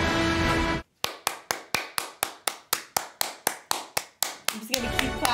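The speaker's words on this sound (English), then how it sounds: "I'm just gonna keep clapping." Hands clapping in a steady, even rhythm, about fifteen sharp, close claps after a short burst of loud voice, with talking picking up again at the end.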